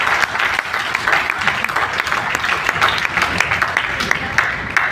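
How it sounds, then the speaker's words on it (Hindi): A crowd at a training event breaks into loud applause, dense clapping that stays strong and steady across the moment, with a few voices faintly underneath. "जोरदार तालियों के लिए"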